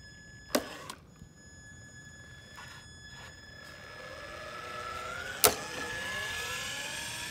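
A Traxxas 4Tec 2.0 RC car wearing a Corvette body makes a speed run, its electric motor whine rising and sweeping past at a distance, with a couple of sharp clicks or bumps and a thin steady background tone.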